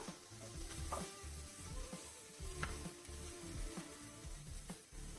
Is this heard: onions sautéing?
yes